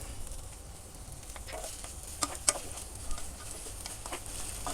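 Vegetable stew cooked with coconut milk stirred in a pan over a high flame, a soft steady sizzle with a few light utensil taps and scrapes, fairly faint and without talk.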